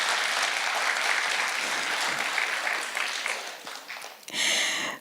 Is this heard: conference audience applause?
yes